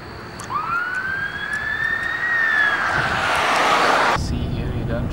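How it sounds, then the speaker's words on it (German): An ambulance siren sweeps in a rising then falling wail as it passes close and loud over steady traffic noise, cutting off abruptly near the end. "Krankenwagen."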